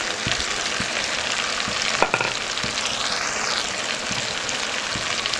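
Spices fry with quail meat in a pan, a steady close sizzle broken by a few stirring scrapes and knocks, one clack standing out midway.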